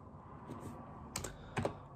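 A few soft computer keyboard keystrokes in a quiet room, clustered in two brief bursts over a low background hum.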